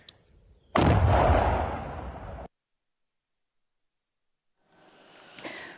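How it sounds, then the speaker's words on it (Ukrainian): A controlled detonation of an unexploded Russian missile in Zaporizhzhia region: a single powerful blast erupts and rumbles away, followed by silence and then faint distant noise returning. "Методом контрольованого вибуху з дотриманням заходів безпеки нерозірвану російську ракету підірвали"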